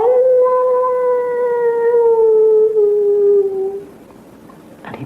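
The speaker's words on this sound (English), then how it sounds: "And in the distance, the howl of the werewolf." A single long, wavering howl of a werewolf in the distance, set in darkness at night, sliding slowly downward in pitch over several seconds before fading into quiet, with a faint rustle at the end.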